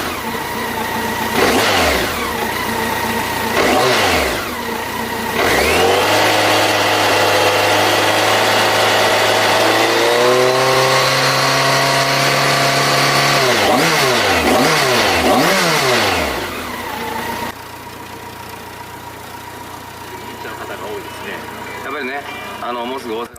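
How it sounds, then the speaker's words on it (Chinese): A BMW K-series motorcycle's horizontal four-cylinder engine revs up and down several times, close and loud, with rising and falling sweeps over a steady idle that settles to a quieter idle near the end. "先大家听一下这一代发动机声浪"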